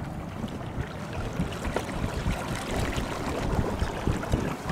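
A small fishing boat's outboard motor drones steadily as the hull moves across shallow inshore water, with a low rumble, wash and wind noise throughout and no talking.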